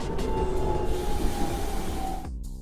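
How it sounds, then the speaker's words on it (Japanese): A train rumbles past at close range, a steady loud roar with a faint high whine, then cuts off abruptly at the end. "電車"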